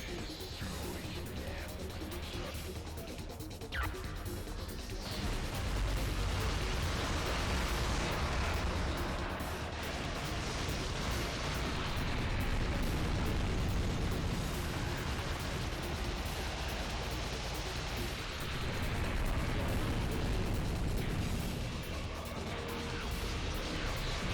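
Dense, loud barrage of crashes and explosive bursts from the Devil May Cry 2 action game, layered with constant rumbling chaos for the whole stretch.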